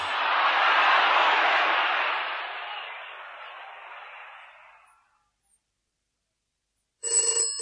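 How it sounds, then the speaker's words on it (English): A telephone starts ringing with a bright, electronic trill near the end, after a loud rush of broad noise fades away into silence. "There's the phone."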